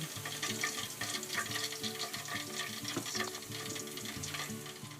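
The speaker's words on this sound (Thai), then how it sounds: "ต้องทอดไปอีกนิดนึง" Thai moo khluk fun, seasoned pork pieces, frying in hot oil with a dense, continuous crackling sizzle, close and fairly quiet, with faint low hum beneath and no speech.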